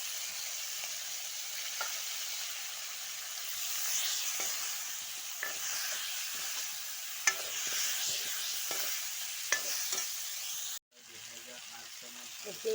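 Potatoes fry in hot oil in a pan while being stirred, a steady close sizzle broken by occasional scraping strokes, until the sound cuts off abruptly near the end.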